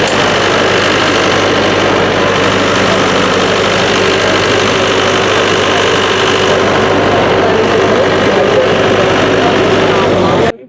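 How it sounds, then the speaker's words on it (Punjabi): A new Eicher CPCP 4+ diesel generator with a Volvo engine and Stamford alternator runs at an exhibition, a loud, constant engine drone and mechanical hum close by, with someone talking over it. "ਇੱਥੇ ਆਪਾਂ ਆਇਸ਼ਰ ਕੰਪਨੀ ਦਾ ਸੀਪੀਸੀਪੀ 4+ ਜਨਰੇਟਰ ਲੈ ਕੇ ਆਏ ਹੋਏ ਹਾਂ"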